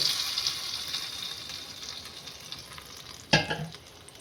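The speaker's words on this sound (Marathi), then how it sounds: "ते तुकडे मी याच्यामध्ये तडका टाकते" Fried chili pieces are tipped into a sabudana wada chutney for tempering, giving a soft continuous sizzle with a sharp clatter and splash partway through.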